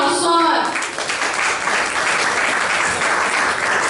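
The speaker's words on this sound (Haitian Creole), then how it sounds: "Applaudis Peterson" An audience claps at a youth awareness event held by a leather goods workshop. Loud, dense applause runs throughout, with a brief voice heard at the start.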